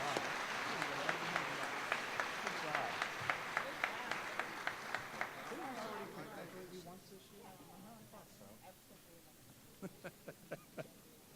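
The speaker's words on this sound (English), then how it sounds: "A round of applause." Audience applause for students at a school board awards and recognition ceremony, a steady round of rhythmic clapping that tapers off midway, followed by a few scattered claps near the end.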